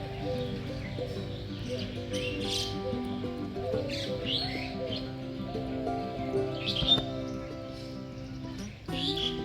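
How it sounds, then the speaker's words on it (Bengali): Birds chirp in the trees in front of a house in the morning, with scattered high tweets over a steady outdoor hum and some low background murmur. "চলুন তাহলে ভিডিওটা শুরু করার আগে আপনাদের পাখির আওয়াজ শোনাই।"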